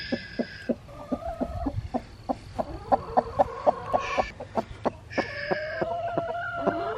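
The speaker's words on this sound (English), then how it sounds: "Look at that broody chick." A broody hen clucks close up in a steady run of short, throaty clucks, broken by a few higher drawn-out calls from the fowl, with no talk.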